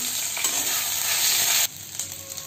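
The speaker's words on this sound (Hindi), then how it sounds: "आ ई आदि लहसुन भी एहिमे राखि के कनिक देर भुजि लेबै।" Ginger, garlic and chillies fry in hot mustard oil while being stirred, giving a continuous close sizzle that drops abruptly partway through and then carries on more quietly.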